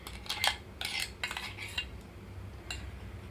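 A spoon stirring curd into ridge gourd chutney in a bowl, a few distinct metallic clinks and scrapes in short bursts with quiet gaps between, close and fairly soft, no voices.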